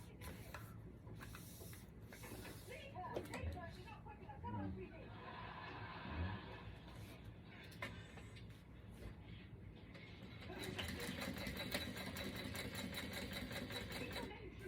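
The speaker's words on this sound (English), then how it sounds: "I'm going to top stitch across the top." Sewing machine top stitching across the top of a small zipper pouch, running steadily through the clip and growing louder and denser toward the end, with soft voices and light chatter underneath.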